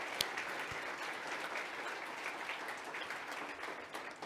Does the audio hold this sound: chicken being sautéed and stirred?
no